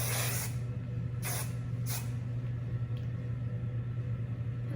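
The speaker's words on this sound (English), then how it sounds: "A little hairspray." Hairspray is sprayed onto styled hair in three short, close hissing bursts over a steady low hum, followed by quiet.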